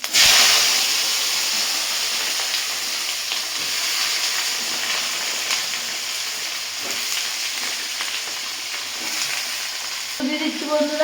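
Kudri (ivy gourd) and potato fry in hot oil with dried red chilli and cumin in a kadai, a loud, steady sizzle and hiss that continues evenly, with a few stirring clinks near the end.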